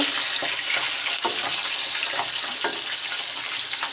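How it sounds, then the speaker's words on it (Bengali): Pieces of hilsa fish frying in oil make a loud, continuous sizzling hiss that stays even and unbroken throughout, with faint pops and a single brief dip. "আরও কিছুটা মাছ ছিল, সেটা আবার দিয়ে দিলাম, এটাও ভাজা করে নেব।"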